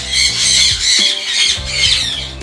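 A sun conure and a jandaya conure let out a series of harsh, piercing squawks, three or four loud bursts close by with short gaps between them.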